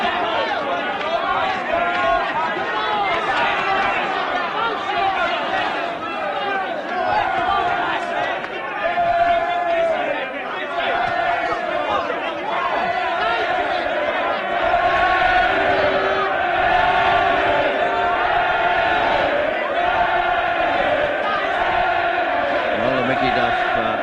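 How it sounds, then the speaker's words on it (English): A dense boxing arena crowd roars and chants steadily in support of Leeds boxer Henry Wharton, a continuous swell of cheering and shouting that holds loud for the whole stretch. "The crowd beginning to get behind Wharton."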